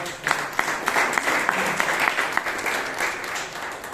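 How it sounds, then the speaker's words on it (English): A Toastmasters club meeting audience in Bangalore gives a round of applause after an icebreaker speech, steady clapping with distinct individual claps throughout, fairly close and moderately loud. "We can give a big round of applause for it."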